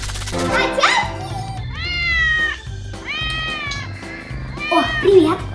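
Kittens meow repeatedly in a home, several loud drawn-out high cries in close succession, with a voice calling over them.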